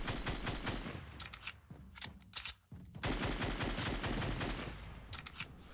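Rapid bursts of video game gunfire in a battle-royale style match, loud automatic volleys and sharp single shots crowding together with a brief lull midway.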